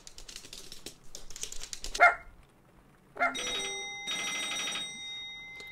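Telephone ringing inside a video game: short bursts of electronic ringing tones after a few clicking and rustling sounds, fairly close and clear with no voices.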